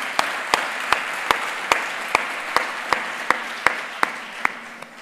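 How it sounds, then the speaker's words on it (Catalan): An audience at an awards ceremony for local journalism claps in unison, with sharp, evenly spaced beats about two or three per second over a steady background of scattered clapping. "Un aplaudiment per la Berta Soler, que és la nostra company"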